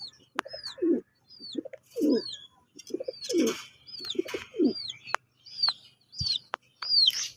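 Racing pigeons cooing repeatedly at close range, rhythmic low throaty coos in bursts, with sharp chirps and other birdsong in the background.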